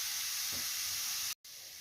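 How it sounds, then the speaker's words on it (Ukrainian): A minced meat and mushroom filling for stuffed potatoes stews in a pan over low heat, giving a steady, soft, close sizzling hiss that runs without a break and cuts out for a moment near the end. "Все, поставлю на маленький огонь і ще на пару хвилиночок воно потушиться."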